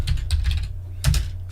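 Fingers tap rapidly on a computer keyboard in two short bursts of clicking keystrokes, close and clear over a low background hum.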